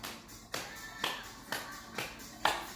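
Hands clapping during a seated chair exercise, five evenly spaced claps about half a second apart, fairly soft and close.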